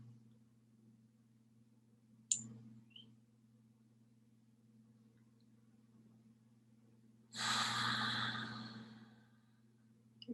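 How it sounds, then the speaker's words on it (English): Breathing during a calm skin-care ritual: a soft short breath early on, then a long audible exhale later, set against a low steady hum and otherwise quiet. "Breathing."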